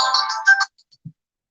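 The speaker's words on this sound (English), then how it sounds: "when the phone rings" A phone ringtone plays a short bright electronic melody once, loud and close, then stops into silence with a faint click.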